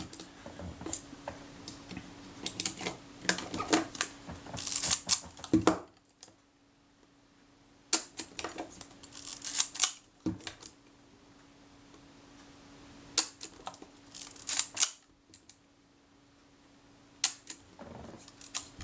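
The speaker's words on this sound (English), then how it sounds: "the shutter released and the film advance didn't release" A partly disassembled Kodak Retina IIIC camera gives off quiet clusters of small mechanical clicks and ticks as its shutter releases and its film advance mechanism works, repeated several times with short pauses between.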